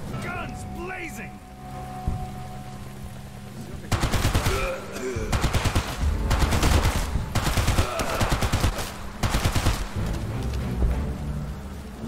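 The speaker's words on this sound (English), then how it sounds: "Guns blazing!" Bursts of automatic gunfire in the World War II tactics game War Mongrels erupt after a quieter opening, with rapid rattling volleys and repeated shots continuing steadily to the end.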